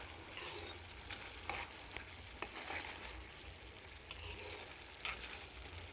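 Beetroot and chickpea curry stirred in a pan with curry leaves, a soft, distant simmering sizzle broken by a few sharp clicks and scrapes of a spoon against the pot, no voices.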